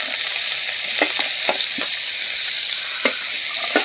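Ginger, garlic and green chilli sizzling in hot oil in a pan for dry shrimp pickle, a loud continuous frying hiss broken by a few soft stirring knocks, with no voices.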